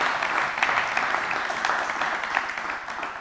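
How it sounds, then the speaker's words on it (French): An audience at a car club gathering applauds Philippe Grilot, a dense, sustained round of clapping at an even level from start to finish. "On peut applaudir Philippe."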